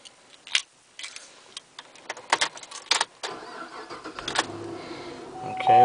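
A 2012 Chevrolet Camaro SS is started from inside the cabin: scattered clicks and key ticks lead into the engine catching, ending in a steady, loud idle rumble.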